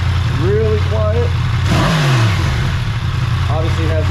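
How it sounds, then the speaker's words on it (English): Yamaha MT-10 with its stock exhaust and CP4 crossplane four-cylinder engine revs hard and close, one sweeping rise and fall of pitch in the middle over a steady idle rumble. "Obviously has that Yamaha CP4 sound, which we love."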